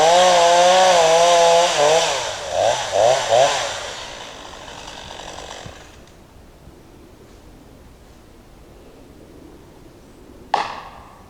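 A chainsaw cuts into a double-stem maple tree being felled with wedges, revving loud and close in wavering pulses for a few seconds before dropping away to quiet, with a sharp knock near the end.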